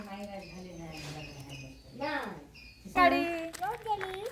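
Short, bright chirps and squawks from a parrot, close by, mixed in with voices talking nearby.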